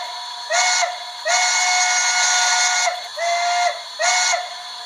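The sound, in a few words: steam whistle of a BLI I1sa model locomotive sound decoder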